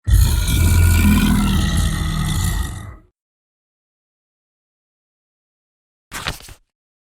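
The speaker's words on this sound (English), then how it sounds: "They heard a roar." A loud, deep roar lasts about three seconds and then cuts off. Silence follows, then a brief short grunt.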